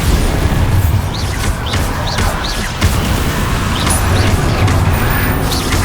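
Explosion spell effects ring out in the video game Hogwarts Legacy: loud, dense booms and crashing impacts pile up over a constant rumbling battle bed, with short whooshing chirps scattered throughout.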